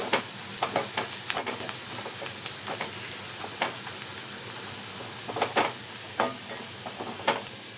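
Spices being stirred together in a cooking pan for a black pea (vatana) dish, giving steady scraping and soft sizzling with repeated sharp spoon knocks against the pan. The knocks come close and irregular throughout, and no one speaks.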